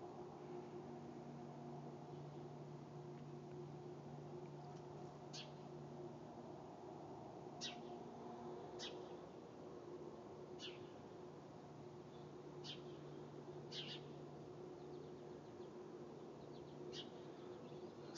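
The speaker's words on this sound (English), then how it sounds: "the whirring noise of the power plant almost drowns the birds' chirps" Sharp bird chirps come through in scattered short bursts over a constant low whirring hum from a power plant in Council Bluffs, heard from a backyard, with the steady drone almost masking the calls.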